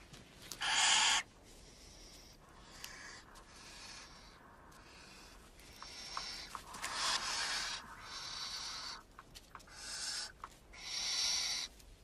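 Barn owl calls: a series of harsh, raspy hissing screeches, some long and some clipped short, repeated close by with brief gaps and a few faint clicks between them.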